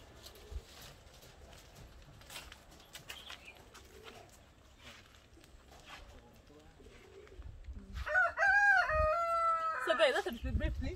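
Chickens on a homestead cluck faintly amid outdoor ambience, then a rooster crows loudly and close by near the end, its call rising and wavering over several seconds.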